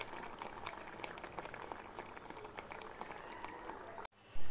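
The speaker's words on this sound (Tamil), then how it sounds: "கொஞ்சம் நேரம் கொதிக்கட்டும்" Egg malai gravy simmers in a pot with a quiet, steady bubbling and many small pops, then a brief gap is followed by a louder burst of noise at the very end.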